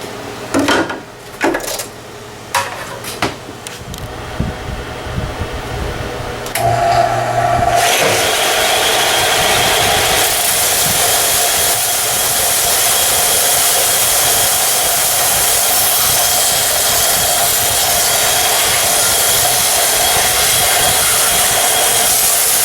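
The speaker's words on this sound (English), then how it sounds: "So let's go to the sander." An electric sander fitting a wooden table saw insert starts after a few scattered knocks and handling noises, then whirs loudly and continuously at close range for the rest of the time, with no talk.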